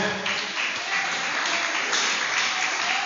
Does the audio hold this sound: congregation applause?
yes